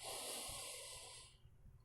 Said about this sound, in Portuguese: eu estou respirando, eu estou me enchendo de matéria